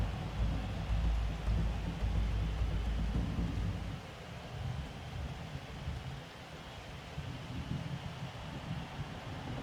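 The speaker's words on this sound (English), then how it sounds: "I like the sound of the rain." Steady video game rain hisses over a low rumbling roar that eases partway through, leaving an even wash of falling water.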